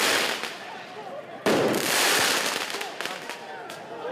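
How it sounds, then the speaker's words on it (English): Fireworks crackle and boom in a rapid series of sharp bursts during protests in Los Angeles, the loudest blast hitting midway, with a crowd faintly audible underneath. "Firework over here."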